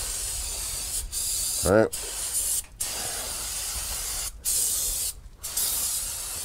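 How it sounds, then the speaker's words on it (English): Loud hissing bursts from an aerosol can of brake cleaner sprayed over rear drum brakes of a Chevy K5 Blazer, several long sprays separated by short pauses, close up, with a brief spoken word between them. "you're gonna spray it all down with brake cleaner"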